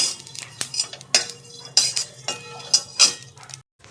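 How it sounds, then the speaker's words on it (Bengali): Fennel and ajwain seeds dry-roasted in a pan, heard as a series of sharp metallic clinks and scrapes of a spoon against the pan, close and intermittent with brief quiet gaps. "এটাকে আমি শুকনো খোলায় একটু ভেজে নেব, হালকা ভেজে গুঁড়ো করব এটাকে"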